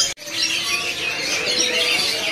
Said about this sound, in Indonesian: Ini murai Medan trotol jantannya nih.